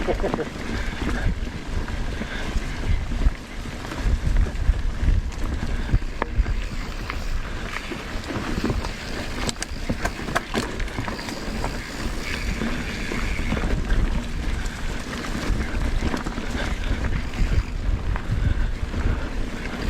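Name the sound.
wind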